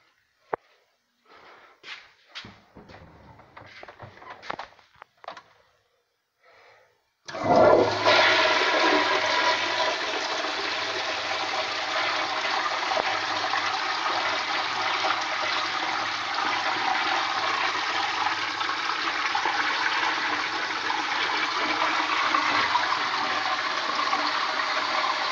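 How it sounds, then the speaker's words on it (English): A toilet in a school men's restroom flushes with a loud, sustained rushing roar that runs steadily for well over fifteen seconds, preceded by a few faint clicks and handling noises. "Something's going on with that toilet."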